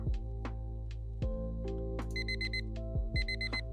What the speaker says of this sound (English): Alarm sound.